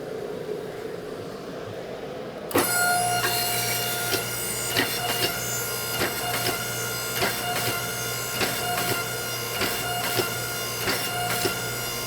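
Hydraulic forging press with drawing dies drawing out a San Mai steel billet, starting abruptly after a quiet hum into a continuous motor drone with repeated sharp knocks as the dies take small bites.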